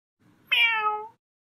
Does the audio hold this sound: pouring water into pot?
no